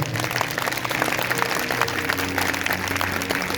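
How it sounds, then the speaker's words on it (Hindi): Church congregation at a Sunday message claps loudly and steadily together, a dense continuous wash of hand claps with a faint crowd murmur underneath. "अगर आ रही तो जोर से तालियां बजाओ"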